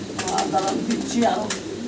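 Fancy pigeons coo in soft, repeated low calls at close range, with voices murmuring alongside among birds kept for sale.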